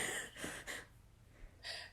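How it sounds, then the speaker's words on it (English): A few sharp, breathy gasps close by, separated by brief quiet pauses, with no speech. "Why are you gasping?"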